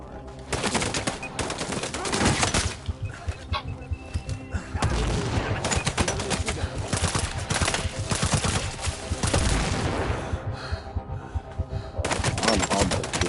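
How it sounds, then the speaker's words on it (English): Rapid bursts of gunfire in a PS4 shooter game, loud and dense automatic fire repeating throughout with brief gaps, filling the whole stretch. "Yeah, somebody else is shooting at me."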